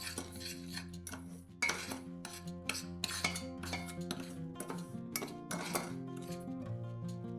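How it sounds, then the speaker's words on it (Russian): A spoon scrapes and clinks against a metal saucepan, stirring dry sugar and cocoa powder in quick irregular strokes, close and fairly quiet. "В сотейник насыпаем 4 столовых ложки сахара и 3 столовых ложки какао. Все перемешиваем в сухом виде"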